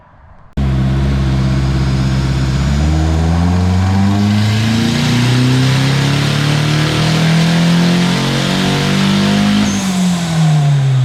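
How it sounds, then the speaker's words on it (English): Nissan S14 strapped to a dyno, its engine revving up in long sustained pulls, loud and close, the pitch climbing steadily, then dropping and climbing again toward the end. "Finally, it is time to put my car on the dyno."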